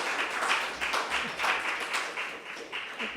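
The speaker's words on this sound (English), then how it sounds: "I appreciate the clap" Fairly quiet, loose clapping from a small audience after a poetry reading, a thin patter of hands sustained for a few seconds in a room.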